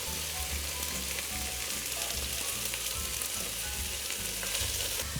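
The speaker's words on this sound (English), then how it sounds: "we have just browned a little bit the meat" Meat for a classic lasagne browning in a frying pan, giving a dense, continuous close sizzle with faint crackles, steady and alone with no talk.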